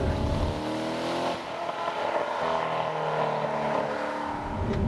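A Chevrolet Corvette Stingray Z51 sports car driving down a hill and accelerating up through the gears, its engine note loud and close from the cabin, rising and falling steadily with no talking.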